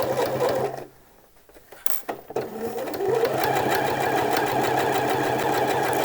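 A sewing machine stitches a shirt seam, starting with a short burst, pausing briefly, then running in a steady, close, continuous hum to the end.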